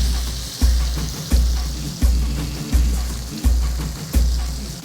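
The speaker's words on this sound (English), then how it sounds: "just going to pop those chicken breasts in there. Now, what I'm wanting when I put them in there is a nice sexy sizzle." Chicken breasts hiss in a smoking-hot pan, giving a steady bright sizzle under a rhythmic pulsing thump that repeats roughly every two-thirds of a second.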